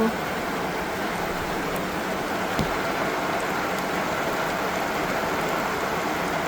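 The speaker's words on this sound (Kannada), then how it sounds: "ಕರೆಂಟ್ಲಿ ಜೋರು ಮಳೆ" A downpour of heavy rain drums steadily all around, a thick unbroken hiss with a faint knock partway through.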